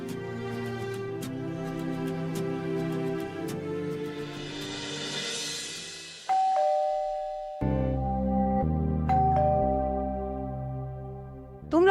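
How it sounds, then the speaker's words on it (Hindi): Doorbell chimes ring out in a home, a few tonal ding-dong notes that follow musical sound and sit clearly above a quiet background. "तुम लोगों को घंटी सुनाई नहीं दे रही है?"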